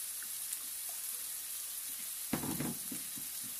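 Olive oil warming in a small saucepan gives a faint, steady hiss at first, then a brief louder crackle of sizzling breaks out midway before settling back into a quiet fizz.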